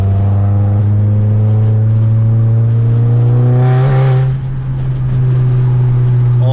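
The Project MK7 car drives a road in Mexico on all-season tires, its engine droning loud and close in a steady, slightly rising pull as it accelerates, with no talking.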